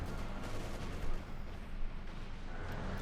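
An artillery barrage in Company of Heroes 2 keeps up a dense, continuous roar of shelling, with heavier booms swelling near the one- and two-second marks over a steady rumbling bed.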